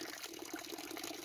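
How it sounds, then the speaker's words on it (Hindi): Water from a mountain spring beside a village house runs steadily in a constant close gush, with no voices over it. "यह घर के नज़दीक पानी का एक स्रोत है, जिसको चश्मा भी कहते हैं।"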